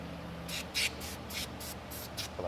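Brake cleaner sprays onto hands in about seven short, hissing aerosol bursts, fairly close and evenly spaced, after an oil change on a BMW.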